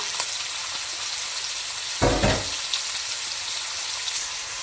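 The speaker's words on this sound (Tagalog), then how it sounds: "saute the pork. Ang ginamit ko is pork belly." Pork belly sautéing in a hot pan, a steady close sizzle and crackle running throughout, with a brief louder burst of spitting and stirring midway.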